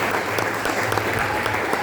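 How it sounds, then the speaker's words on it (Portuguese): A large church congregation claps loudly and steadily during a service, dense continuous applause filling the room with no voices standing out. "palmas bem forte, igreja, para o Senhor Jesus."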